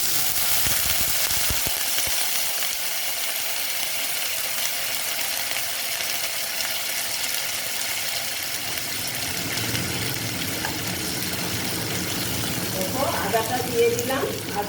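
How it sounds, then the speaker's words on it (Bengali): Vegetable stalks frying in a pan with shrimp for a mung dal kalia, giving a loud, continuous sizzling hiss that holds steady throughout, with some clattering stirring noise toward the end. "ডাঁটা দিয়ে একটু ভেজে নিচ্ছি আমি"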